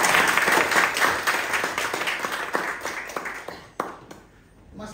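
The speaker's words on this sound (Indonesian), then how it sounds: "Mari kita beri tepuk tangan." Lively applause from a gathering of religious figures and youth groups in East Nusa Tenggara, brisk and loud at first, thinning to scattered claps and fading out by the end.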